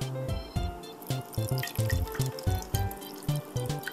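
Water drips and splashes from a Fisher-Price Splashin' Bucky bath toy, a quick irregular patter of close, bright droplets falling into water.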